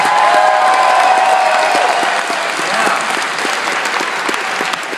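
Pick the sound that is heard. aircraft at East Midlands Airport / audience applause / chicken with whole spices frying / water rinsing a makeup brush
audience applause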